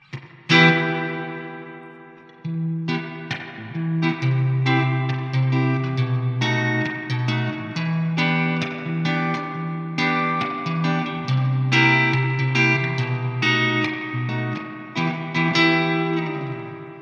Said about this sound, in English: You have the 60s spring reverb that sounds like this.